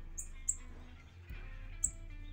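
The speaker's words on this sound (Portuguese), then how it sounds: "Olha aí, guriatãzinho, cansou um pouco por causa da câmera, chamando bastante." A caged violaceous euphonia (guriatã) gives a few brief, high, thin call notes spaced apart over low background hum.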